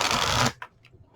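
A deck of cards gets one quick riffle shuffle, a dense papery burst lasting about half a second. It ends abruptly and is followed by a couple of faint taps as the cards settle.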